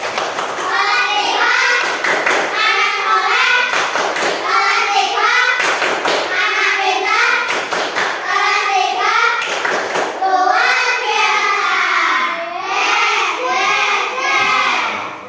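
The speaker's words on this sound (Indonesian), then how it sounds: "Tepuk semangat." Third-grade schoolchildren perform a rhythmic spirit clap in a classroom, chanting together in unison while sharp, loud clap bursts land at regular intervals, a patterned routine repeated several times before trailing off.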